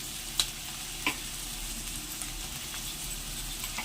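Onions frying in ghee in a pan while making a country chicken curry, giving a steady, quiet sizzle with a couple of brief clicks near the start and no talking.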